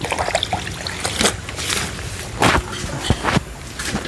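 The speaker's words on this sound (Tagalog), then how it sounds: "Dagdagan mo yung tubig. Kunti lang." Water is poured in uneven trickles and splashes close by, with several brief louder gushes among softer dribbling and no talking.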